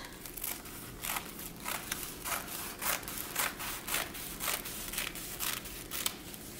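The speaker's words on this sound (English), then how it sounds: "And then I'm just going to cut strips" Scissors cut folded tissue paper into strips for a jellyfish craft, giving a steady run of crisp, close snipping and crinkling sounds, roughly two cuts per second, with no talking.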